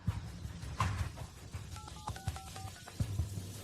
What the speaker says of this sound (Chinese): 你当着所有人的面打电话给银行查验这张卡的余额